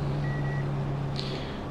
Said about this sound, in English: Sorry for the beep. You will hear this probably the whole race because I only muted TeamSpeak.